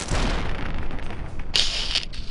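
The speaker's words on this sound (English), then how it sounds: "Yay, critical explosions!" Explosions from the video game Fallout 3 go off as loud, dense rumbling booms, continuous and close, with a brighter burst near the end.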